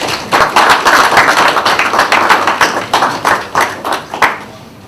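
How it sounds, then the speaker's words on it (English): A crowd applauding, dense overlapping claps at a steady level that thin out and fade toward the end. "I think we can give Dr. Donald another round of applause."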